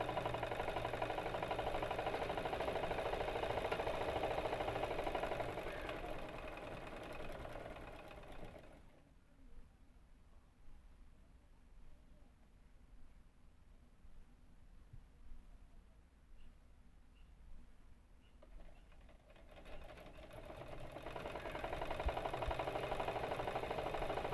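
A sewing machine double-stitches a blouse with a steady, motorized whir, loud at the start and end and noticeably softer through a long stretch in the middle.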